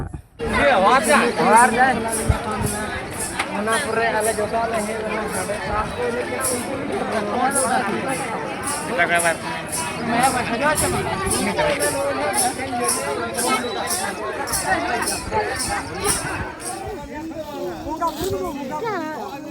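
A busy crowd throngs the Jagannathpur chariot festival, a dense babble of many voices with rhythmic percussive accents throughout, close and loud, with someone talking over it.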